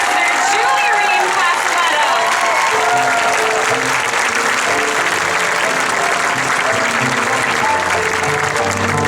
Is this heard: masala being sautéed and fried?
no